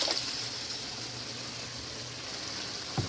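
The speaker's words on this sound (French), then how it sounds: "Je vais rajouter l'eau." Water poured into a pot of cooked onion and leek, a soft steady splashing stream running throughout at low level, with a faint clunk at the end.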